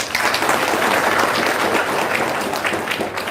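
Audience at a free enlightenment and testimony session bursts into steady, dense applause, loud and close throughout, with many hands clapping at once in a continuous wash of sound.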